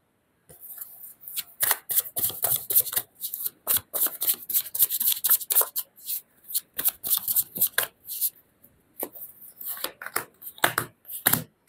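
Tarot cards are shuffled and drawn by hand in close, crisp bursts of riffling and slapping, separated by short quiet gaps, with no talking.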